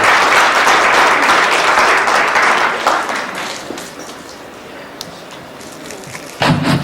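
An audience applauds loudly and densely, the clapping easing somewhat midway, with a sharp thump near the end as the applause carries on.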